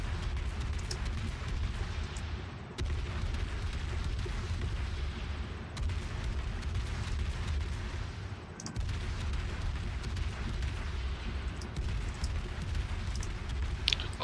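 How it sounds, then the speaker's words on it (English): Heavy naval gunfire from a Baltimore cruiser in World of Warships: deep booming salvos roll over a dense, continuous battle rumble, with sharp breaks between volleys at a steady rhythm. "There's a Baltimore right there, he's firing at me right now."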